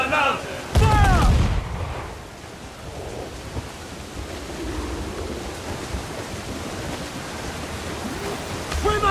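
One heavy ship's cannon booms near the start in Assassin's Creed 4 Black Flag, then a rumbling wash of sea and battle noise follows as voices shout over it.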